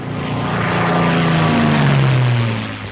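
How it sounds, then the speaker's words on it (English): A P-51B propeller fighter plane in flight drones steadily and loudly with a throbbing engine tone that rises slightly in pitch, swells and then eases off near the end, with no talking. "The plane feels normal now that it's off the ground."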